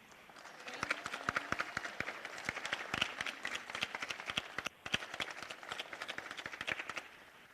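Sustained applause from a crowd at a Homestead city council meeting honoring a student, with sharp individual claps repeating steadily throughout at moderate volume and a faint voice or two underneath.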